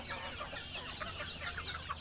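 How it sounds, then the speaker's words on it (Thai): Chickens in a coop at a home flock, young birds around four months old, cluck and chatter softly and continuously at close range for a brief moment, with no voices. "ไก่เริ่มเยอะครับ"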